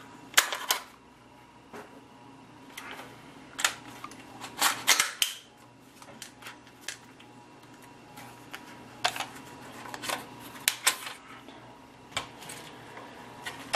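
A carbine buffer in a rifle being cycled, heard as a series of sharp metallic clicks and clacks spaced irregularly, some in quick doubles, near and crisp against a quiet room.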